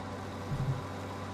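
A combine harvester engine in Farming Simulator 19 hums at a low, steady idle with a faint bump midway, running alone without talk.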